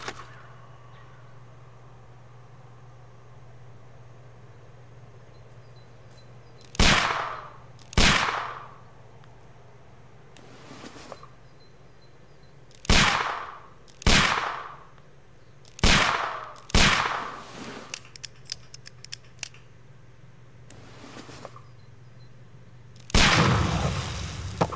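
Pistol shots fired at a package, eight sharp cracks spaced irregularly over about twenty seconds, each with a short decaying tail, loud against a quiet humming background with no voices.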